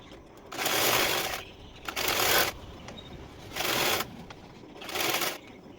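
A sewing machine stitches a blouse sleeve in four even runs of rapid whirring and clatter, each lasting about a second, with short quiet gaps between them.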